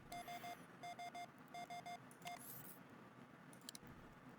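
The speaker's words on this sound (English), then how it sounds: "That is probably a proxy alarm for the other ship that is nearby." Proximity alarm in the space game Ostranauts warning of another nearby ship, sounding as quiet repeated triple electronic beeps in regular groups, followed by a few brief higher chirps, with no talking.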